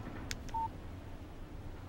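Short electronic phone alert for a text message in the Alan Wake game: a couple of brief clicks followed by a single clean beep tone, faint over a low ambient hum.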